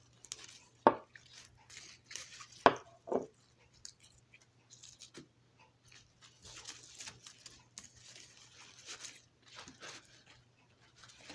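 A knife cuts through wild poke stalks on a board outdoors: a few sharp, distinct chops stand out, followed by faint scraping and rustling handling in quiet surroundings.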